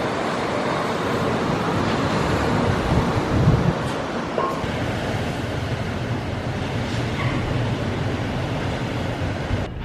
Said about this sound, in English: the sound of the ocean just crashed. It was so strong there